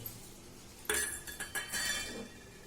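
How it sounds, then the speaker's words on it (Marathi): Green chilli, cumin and coconut are pounded in a stone mortar, giving a series of sharp, clinking knocks in quick irregular succession after a quiet start, close and fairly soft, with no talk. "मी हिच्यामध्ये या दगडी खलबत्त्यामध्ये असं जाडसोड कुटून घेते"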